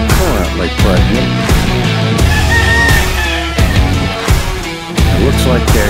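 Fighting birds kept in Cebu city mountains: hens cluck and a rooster crows repeatedly, loud and close, with overlapping calls and a busy farmyard din throughout.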